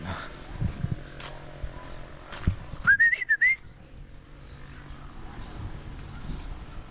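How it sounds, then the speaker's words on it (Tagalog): A short wavering whistle calling animals to feed rises and dips for about a second over faint outdoor background noise, with no speech. "alam na alam na nilang sipol ko"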